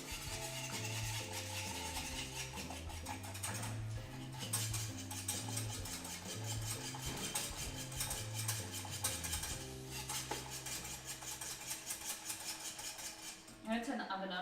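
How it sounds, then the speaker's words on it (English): Whisk scraping steadily against a pan while lemon tart egg mixture cooks and thickens, a quiet continuous metallic stirring that fades near the end, no talk. "keep whisking, you don't want it to burn at all"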